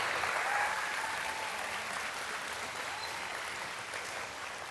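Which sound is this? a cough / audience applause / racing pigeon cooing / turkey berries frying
audience applause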